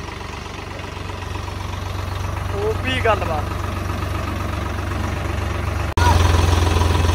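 A Swaraj 855 tractor idles in a Punjab village, a steady low mechanical rumble that runs continuously and grows slightly louder near the end, while someone speaks briefly over it.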